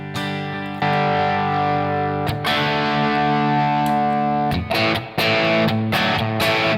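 Stratocaster electric guitar driven through a Gladio overdrive pedal, playing sustained, overdriven chords with a few sharp restrikes and short choppy strums toward the end, loud and close with no talking.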